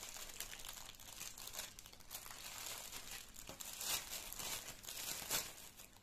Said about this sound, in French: je vais déchirer mon plastique